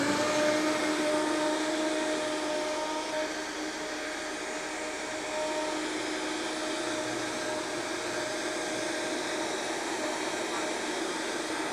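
A Vitamix blender runs on high, blending soup, with a loud, steady motor whine and whooshing roar that holds even and unbroken throughout.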